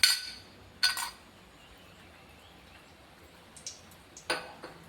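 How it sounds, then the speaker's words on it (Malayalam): A metal mould clinks as it is dropped into a metal pakkavada press in a kitchen, a few sharp, bright metallic taps spaced apart over quiet room tone. "ഇനി നമ്മൾ ഈ അച്ചാണ് പക്കാവടയ്ക്ക് ഉപയോഗിക്കുന്നത്. അപ്പോൾ ഇത് സേവനാഴിയിലേക്ക് നമുക്ക് ഇട്ട് കൊടുക്കാം."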